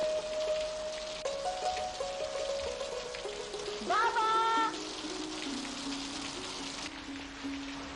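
Rain falling as a stage sound effect during a theatre performance, a continuous hiss of drops under sustained tones and brief sliding notes.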